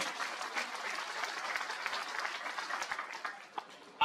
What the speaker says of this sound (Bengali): এর জন্য অন্তত একটা হাতে তালি দেওয়া উচিত হামিদ ভাইয়ের জন্য